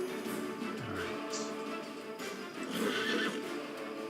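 Plagued horses in a video game neigh and whinny over a steady game-sound bed, with clip-clop hoof noise and a few sharper cries, fairly loud and continuous with no talk.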